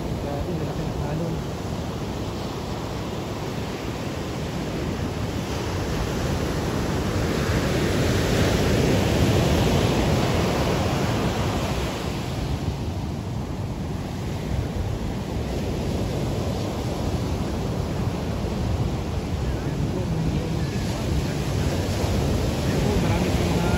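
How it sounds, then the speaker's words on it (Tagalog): Large ocean waves break on a beach in a continuous roar of surf with wind, swelling louder midway, while people talk faintly in the background. "Grabe, malaki ang alon."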